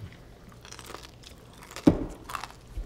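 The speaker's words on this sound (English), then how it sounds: "Wow, the crunch." Someone bites into a crunchy giant hash brown, and a sharp crunch stands out against quiet room sound, followed by softer crackly chewing nearby.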